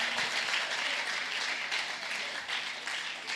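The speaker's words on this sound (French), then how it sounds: "Let's clap our hands for the Lord." A church congregation claps their hands in praise at a service, with continuous, dense, fairly distant applause from many people that runs the whole time.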